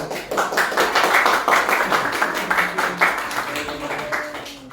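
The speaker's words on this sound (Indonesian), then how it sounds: "Kasih tepuk tangan." An audience at a tabletop game talk show claps in a loose burst that rises then tapers off, with a voice speaking over the applause.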